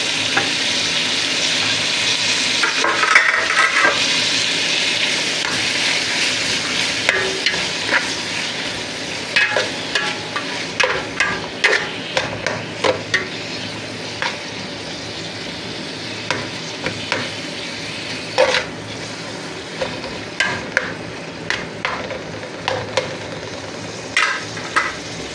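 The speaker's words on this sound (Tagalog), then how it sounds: "At pagsasabayin na po natin yung ating sili at kamatis." Chili and tomatoes for sinigang sauté in a hot pan with a constant sizzling hiss, broken by repeated scraping clicks of a utensil stirring the pan, more frequent in the second half.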